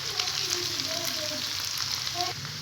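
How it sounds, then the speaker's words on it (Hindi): Three to four whole red chillies frying in oil with ginger garlic paste, making a continuous close crackling sizzle with faint spoon clinks and light stirring throughout. "अब हम इसमें डालेंगे 3 से 4 लाल मिर्चें, साबुत लाल मिर्चें, वो हमने इसमें डाल देनी है और उसको भी साथ साथ हमने फ्राई करते रहना है"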